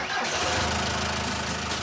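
A tractor engine fires up after a jump start from a flat battery, turning over and catching into a loud, steady mid-pitched run that continues close by without pause.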